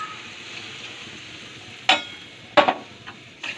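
Water goes into a pan of fish head curry with pumpkin and potato, setting off a loud sizzling burst over a steady low frying hiss, followed by a few sharp stirring scrapes.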